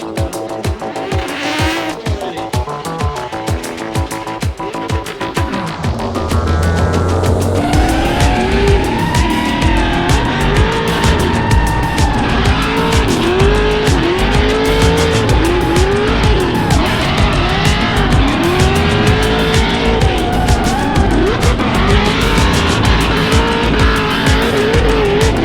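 Pro drift car on a competition run, its engine roaring loudly while the tires squeal in repeated wavering skids through the corners, continuous and intense after an idling start.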